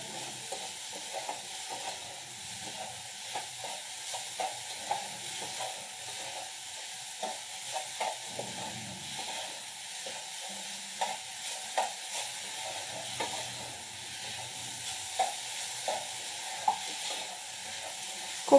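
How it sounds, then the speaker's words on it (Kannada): Grated coconut, mango pulp and sugar fry in a pan, a soft continuous sizzle broken by frequent scraping stirs of a spoon, close and moderately quiet, no voices. "ಇದೊಂದು ಸ್ವಲ್ಪ ಹಸಿ ವಾಸನೆ ಹೋಗೋ ತನಕ, ಸಕ್ಕರೆ ಮೆಲ್ಟ್ ಆಗೋ ತನಕ ಚೆನ್ನಾಗಿ ಫ್ರೈ ಮಾಡ್ಕೊಳ್ಳೋಣ"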